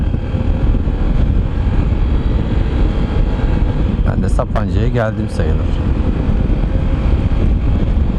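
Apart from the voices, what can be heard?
wind while riding motorcycle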